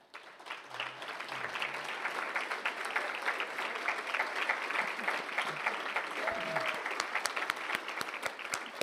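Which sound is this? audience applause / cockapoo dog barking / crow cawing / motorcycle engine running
audience applause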